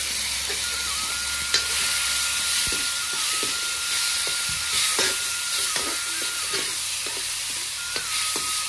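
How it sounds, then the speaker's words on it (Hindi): Cooking oil heats in a pan in a village kitchen, giving a continuous close sizzle and hiss with scattered small clicks and a faint high tone running throughout. "तो ये रख दिया है मैंने तेल गरम करने के लिए"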